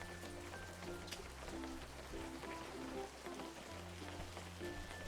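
Soft rain falls steadily in the fishing game Webfishing, a faint continuous patter beneath quiet musical tones that come and go, low in level and without breaks.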